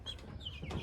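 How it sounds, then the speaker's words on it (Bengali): A hen gives a short burst of close clucking on an egg farm, a few quick throaty notes over a low farmyard murmur. "ডিম পাড়ার জন্য এই মুরগিগুলো এখানে সিরিয়াল দেয়।"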